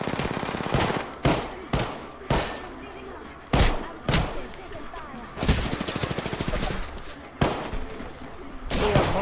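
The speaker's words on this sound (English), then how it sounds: "Yep, shooting at me." Enemy gunfire in a video game match, repeated sharp bursts and single cracks in irregular rhythm, loud and close, with rapid rattling stretches and talk mixed in.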